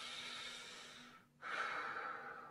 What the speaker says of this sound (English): and not breathing up into the chest, which would look like this.